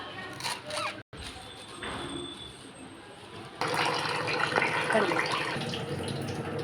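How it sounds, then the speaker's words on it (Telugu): Chopped coriander leaves being washed in water, with running water and splashing that grows louder and steadier partway through, close by and without talk. "కట్ చేసుకున్న కొత్తిమీరని మంచిగా వాష్ చేసుకోవాలి"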